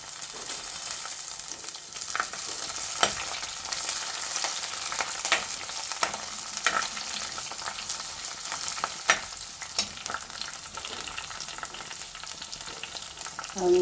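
Garlic, green chili and ginger sauté in hot oil for a fish curry, a continuous sizzle and crackle with occasional stirring scrapes, close and fairly quiet, with no talking.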